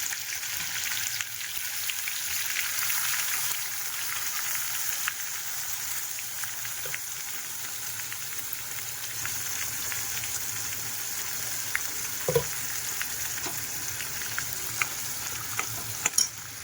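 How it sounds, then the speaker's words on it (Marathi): Masala paste sizzles and fries in hot oil for a dry mutton fopsa, a steady crackling hiss close up with scattered pops and occasional stirring clinks. "चांगलं तेल तापलेलं आहे. आता आपण वाटण टाकून घेऊया."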